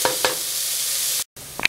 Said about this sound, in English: Give it a quick stir and let these sweat for about 5 minutes before adding your potatoes